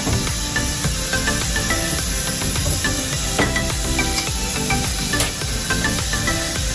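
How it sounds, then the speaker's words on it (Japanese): Beef sears in a thin layer of oil in a pan, giving a continuous loud hiss and sizzle with small crackles and pops, steady from start to finish. "外側だけ肉を軽くね炒めます。"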